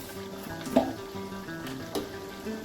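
Marinated mutton cooks with onion and tomato in a pan, a soft, moderately quiet sizzle under two brief stirring scrapes, with no one talking.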